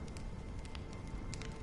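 A fire crackles in a rainy scene of the video game set in Penacony: brief, close, dense popping and snapping over a steady hiss of rain.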